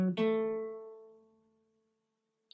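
A single guitar chord from The Rolling Stones' My Girl, struck once and left to ring out clean and fairly soft, decaying slowly into silence over about two seconds.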